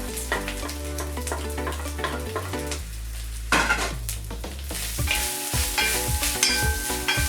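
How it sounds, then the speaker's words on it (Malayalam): Grated coconut roasting in a pan sizzles steadily while a spoon stirs and scrapes against the metal in repeated close clinks, with a faint tonal hum underneath. "പിന്നീട് ചിരകി വെച്ചിരിക്കുന്ന കുറച്ച് തേങ്ങ ചേർത്ത് അതൊന്ന് മൂപ്പിച്ചെടുക്കാം."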